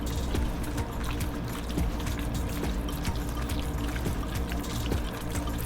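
Cornstarch stirred into shirodashi sauce in a home kitchen, giving a steady liquid swishing and sloshing with faint drips, close and continuous without talk.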